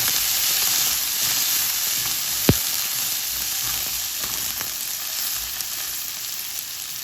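Chopped onions sautéing in hot oil in a pan for carrot curry, a loud continuous sizzle and hiss with one sharp clink of a utensil partway through, no voices.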